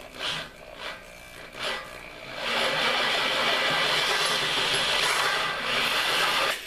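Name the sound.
drilling vise mounting holes out to 1/2 inch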